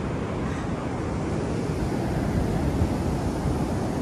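Steady sea surf rolling onto a beach at sunset, a continuous broadband wash of waves mixed with some wind noise, with no voices.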